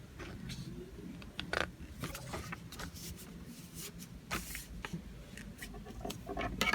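Paper sheets are lined up edge to edge and creased by hand, giving soft irregular rustles, slides and sharper pressing swipes at close range without speech.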